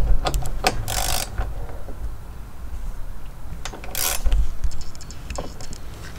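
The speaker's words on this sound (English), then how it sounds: "I'm gonna just go behind it with the gun, double-sided ratchet, Harbor Freight" Harbor Freight double-sided ratchet turning bolts during a front-mount intercooler install, close sharp clicking bursts with scattered metallic clinks against a quiet garage background.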